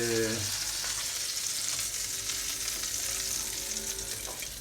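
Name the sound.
mumbar (stuffed intestine) frying in pan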